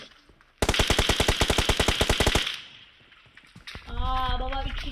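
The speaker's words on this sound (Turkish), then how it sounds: "Bak sana sıkıyor bu." A rapid automatic burst of gunfire from the video game PUBG fires about twenty evenly spaced, loud shots over roughly two seconds. A voice follows after a short quiet gap.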